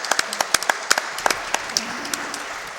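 A crowd gives brief scattered applause after a Boom Boom kill in a Super Mario Bros 3 race. The sharp individual claps fade over about three seconds, with faint voices murmuring underneath.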